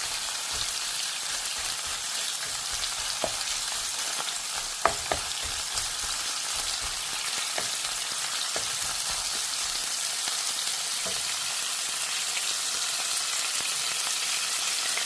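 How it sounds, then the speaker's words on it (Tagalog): Beef sizzles and fries in a pan while a wooden spatula stirs it, giving a steady hiss with scattered scraping taps and clicks, close and fairly quiet, with no talking. "Halo-haloin natin ang karning na to."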